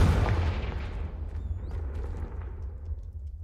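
In Hogwarts Legacy, a Confringo fire blast spell goes off with a loud, deep booming explosion at the start, its rumble slowly fading away over a few seconds.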